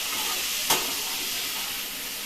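Beetroot sautéing in a pan gives a steady, even sizzle and hiss throughout, with one brief clink or scrape of a utensil partway through; no voices.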